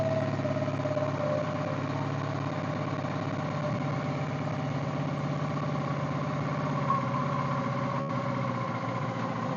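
A Suzuki V-Strom DL650 motorcycle idling in neutral after a wiring loom replacement, a steady, even engine hum with a low throb, close and constant throughout.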